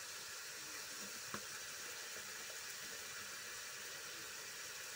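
Spice paste with a splash of water sizzling as it fries in a pan for a hilsa fish curry, a steady quiet hiss with one brief clink near the start.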